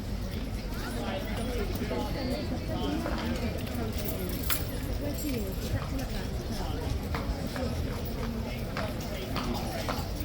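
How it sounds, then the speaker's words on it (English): Horse hooves clip-clop steadily from a King's Guard mount at Horse Guards, the animal restless, under continuous outdoor crowd noise and nearby talk. "Oh, the horse is a bit unsettled."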